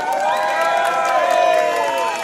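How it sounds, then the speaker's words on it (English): A Brazilian cheering squad at a hot dog eating contest weigh-in chants and cheers in a steady, loud, sustained crowd roar with overlapping voices and whoops, close by. "Oh, is this the Brazilian cheering squad?"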